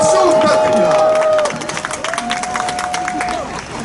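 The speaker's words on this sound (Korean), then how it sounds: "그 박수 부탁드립니다." Crowd at an outdoor rally in front of Sungnyemun gate in Seoul claps and cheers, a loud burst that eases into scattered applause and babble over about four seconds.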